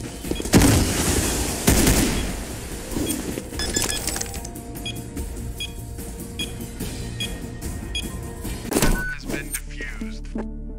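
Gunfire in Counter Blox, with a dense opening volley of loud shots followed by scattered single cracks and clicks, then another heavy burst near the end.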